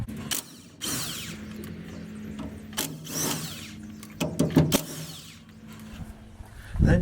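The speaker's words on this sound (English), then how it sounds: "We're just going to take these 10 bolts out that hold the differential cover on." A ratchet works the ten bolts off the differential cover of a Dodge D150's 8.25 Mopar rear end, giving bursts of rapid clicking at intervals with pauses and clanks of handling between them.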